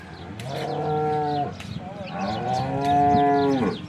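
Cows at a cattle sale, some of them pregnant, give two long, loud, close moos one after another, with a few faint background sounds between the calls.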